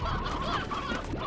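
Chickens in the video game Slime Rancher, a steady dense layer of clucking from many birds, continuous and moderately loud with no speech.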